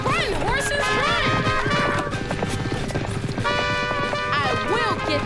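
Cartoon horses gallop with rapid, steady clip-clopping hooves and whinnies in an animated children's adventure, loud and continuous over energetic background music.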